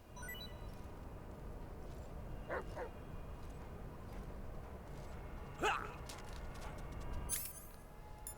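A guard dog in Metal Gear Solid Delta: Snake Eater gives a few sharp yelping barks, some faint and one louder near the middle, over a constant jungle ambience of insects and rustling.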